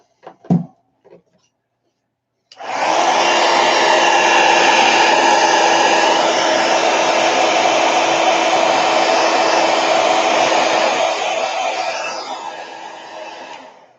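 A hair dryer blowing on wet watercolor paint: after a few light taps, a loud, steady whirring roar starts and runs unbroken for about eleven seconds, close and alone.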